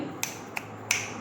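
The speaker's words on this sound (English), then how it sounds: "This is the sound of my this चुटकी जिसको हम बोलते हैं" Three crisp finger snaps in a quiet classroom, close and bright, spaced unevenly with short silences between them.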